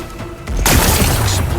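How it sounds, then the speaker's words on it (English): A rock-blasting explosion in the video game Horizon Forbidden West, a sudden loud broadband boom bursting in after a quiet lead-in and rumbling on through the rest of the moment. "Gotta blast away some rocks, so I can expose the power cell"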